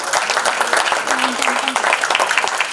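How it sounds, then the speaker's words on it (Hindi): A crowd at a Balasaheb Thackeray birth anniversary event applauds loudly, with dense, continuous clapping and a brief voice rising over it partway through. "जरा जोरदार तालियां हो जाएं।"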